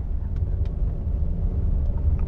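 An MG HS SUV engine pulls under acceleration, heard from inside the cabin as a steady low rumble and road drone with faint ticks above it, and no one speaking.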